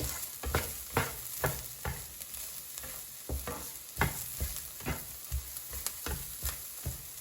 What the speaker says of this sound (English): now let's mix it so it's evenly coated with seasoning